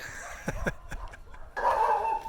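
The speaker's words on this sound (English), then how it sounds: "we found a vicious pack of dogs" A pack of vicious dogs barks on a mountain road at the edge of Oaxaca city, several sharp yips and barks in quick succession, fairly close, followed by a steady outdoor hum.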